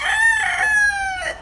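A Tagalog gamefowl rooster crossed with White Kelso crows once, loud and close, with a long drawn-out call that tails off near the end, alone without other sounds.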